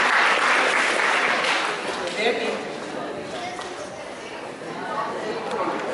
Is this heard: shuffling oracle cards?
no